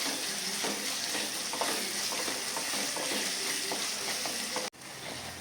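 Garlic and ginger fry in a pan for a dates and lime pickle, giving a loud, steady, close-up sizzle with light stirring scrapes that drops out abruptly near the end.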